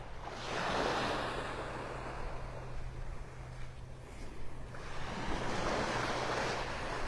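Surf washing onto a beach at Pelican Bay in North Naples, Florida, a steady broadband roar of breaking waves that swells and eases, with some wind buffeting the microphone and no voices.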